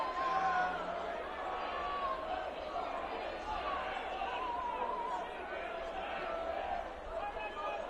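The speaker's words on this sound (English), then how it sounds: "Boy, you can hear the crowd" Crowd at a high school 4A baseball semifinal, a steady distant murmur of spectators with scattered chatter throughout, no distinct cheering peaks.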